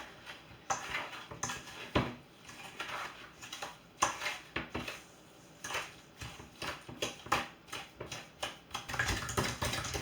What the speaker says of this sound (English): I usually just like whisk it with the edge of the potato masher